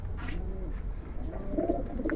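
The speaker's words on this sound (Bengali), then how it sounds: "ব্রিডার কবুতর।" Soft cooing from a Giribaj breeder pigeon rises faintly over a low rumbling background, a few gentle rolling calls with a brighter chirp near the end, no voices present.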